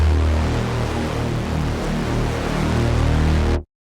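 An Arturia OB-Xa V software synth holds a dense, thick sustained pad while the mod wheel widens its spread, giving a wavering, swirling texture, loud and steady before cutting off abruptly.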